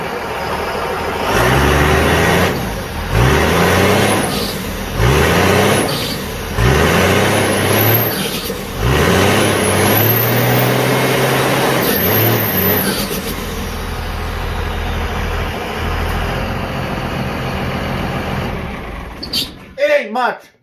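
A truck rolling coal revs its engine hard in repeated loud bursts, each swelling and dropping back, then a long steady roar with some tire spin before it cuts off; someone talks at times.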